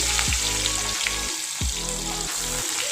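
Onions and green chillies frying in oil in a pan for masala upma, a steady close sizzle with the bright crackle running throughout, a couple of low scraping stirs along the way, and no talking.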